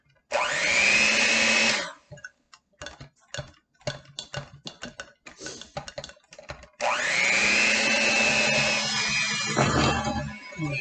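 An electric mixer whirs loudly for two bursts through orange cupcake batter with flour, separated by a stretch of scraping and clicking knocks, the second run steady and close with a slight shift in pitch near the end.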